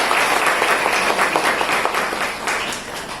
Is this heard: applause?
yes